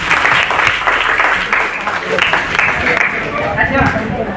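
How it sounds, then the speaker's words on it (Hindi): Seminar audience breaking into sustained applause, dense clapping filling the hall steadily for several seconds with some chatter mixed in. "शाबाश, इनके लिए तालियां तो बजा दूं।"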